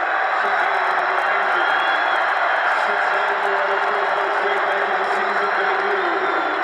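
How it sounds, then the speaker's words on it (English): Basketball arena crowd giving a warm welcome as Paul George returns to the court in April 2015, a steady loud roar of cheering and applause lasting throughout, with possible announcer talk blended in. "George returned on April 5th, 2015, and received a warm welcome from the crowd."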